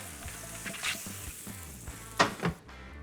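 Butter melting and sizzling in a hot pan for a breakfast sandwich, a low crackling hiss with a few sharper spatters and a utensil clank near the end, close up.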